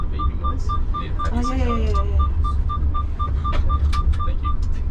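Seatbelt warning beeps in a tour vehicle, regular evenly spaced electronic tones over low engine rumble, with a brief voice and rising whistle-like sounds midway.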